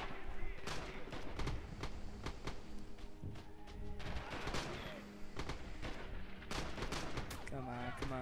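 Gunfire in the World War II shooter Red Orchestra 2: dense rifle and machine-gun shots crack in rapid bursts with thumping impacts, over constant battle noise, while a player talks.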